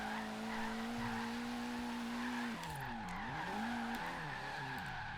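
Ford Focus RS drifting in Forza Horizon, with tires squealing and skidding continuously under a droning engine whose pitch dips and swings as the car slides back and forth.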